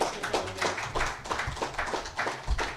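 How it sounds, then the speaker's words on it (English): Audience clapping in a hall at a Nation of Islam gathering, a moderately close patter of hands at an even rhythm, with a few louder individual claps standing out. "Let's keep that applause going for our Delaware Valley Student Regional Minister, Rodney Muhammad."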